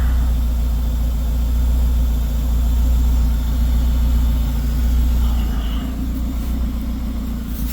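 A Nissan Versa Note fitted with a Honda L15B engine and an HKS axle-back exhaust idles steadily with a deep, close, continuous low rumble, and no one speaks.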